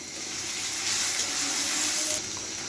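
Shrimp frying in a pan for a cabbage dish, a continuous close hiss and sizzle of hot oil that swells slightly midway, with no speech heard.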